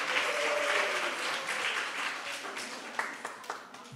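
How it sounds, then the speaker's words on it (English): Audience members at a higher-education dialogue event applaud themselves, a moderate wash of clapping that thins out toward the end into a few scattered, sharper claps. "Give yourselves a huge round of applause."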